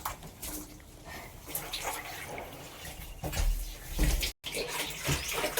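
Water sloshes and splashes while a household water tank is washed out, irregular close surges of liquid noise with a brief cutout near the end and no clear talk.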